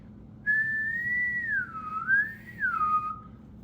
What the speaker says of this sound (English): So you can see when I whistle